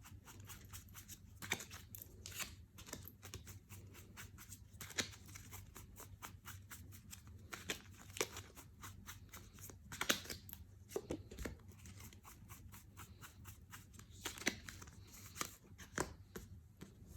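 Tarot cards being picked from a pile and handled, giving soft, faint, irregular papery taps, flicks and slides with small rustles spread across the stretch, close, no talk.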